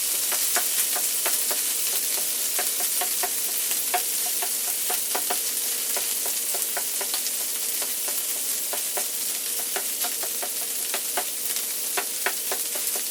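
Corned beef hash sizzles on a grill with a steady close frying hiss, broken by frequent sharp pops and spatters, and no voices.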